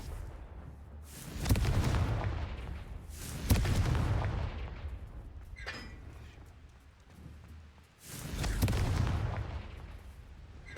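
Confringo fire spells blast in Hogwarts Legacy, three heavy booming explosions spaced a couple of seconds apart, each with a sharp attack and rumbling decay, plus a brief magical shimmer between them.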